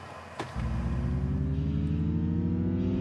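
A Mustang Mach 1 engine fires up and revs in a music remix, a deep steady rumble with rising tones, loud and close, with a musical feel.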